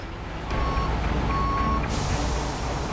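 A heavy rescue truck idles and moves with a loud diesel rumble while its reversing alarm sounds up close in steady, evenly spaced beeps. No one speaks.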